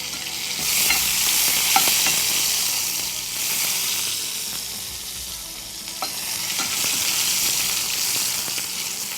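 Tomatoes and onions sauté in a pan for a chicken gravy, giving a steady, close sizzle with scraping stirs of a spoon recurring through the whole stretch, no voices present.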